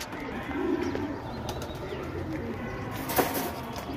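Racing and fancy pigeons coo softly in their loft, with a brief flutter of wings and faint handling noises; the cooing stays low and close throughout.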